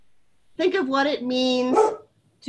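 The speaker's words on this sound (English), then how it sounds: "Sorry, that's my dog." A pet dog barks and yips at home, close to the microphone, while someone speaking indoors keeps talking over it.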